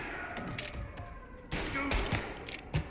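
Gunfire in a shootout in the video game Mafia Definitive Edition, with rapid bursts of shots and thumps over a noisy, busy background, growing louder and heavier in the second half.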